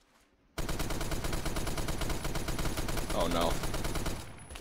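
An M60 light machine gun in Phantom Forces firing one long, steady full-auto burst that starts abruptly and holds loud for about four seconds before cutting off, with a brief spoken exclamation over the shots.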